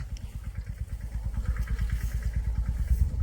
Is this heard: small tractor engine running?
yes